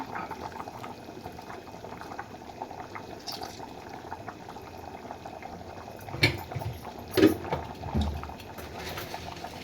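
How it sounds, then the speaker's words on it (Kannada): Rice for chicken biryani bubbles at a steady rolling boil in a pot, a soft continuous burble with a few louder clinks and splashes near the end. "ಈಗ ಅಕ್ಕಿ 1 ಕುದಿ ಬಂದಿದೆ"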